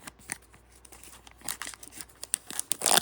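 Foil trading card packs for Panini Score football are torn open up close, giving a run of crinkling and ripping bursts that grow denser and louder toward the end.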